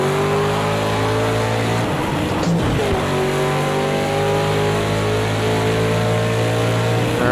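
RTR Ford Mustang Formula Drift car driving in Project Cars 2, its engine holding a loud, steady drone with a brief dip near the middle before climbing back to a sustained high-rev tone.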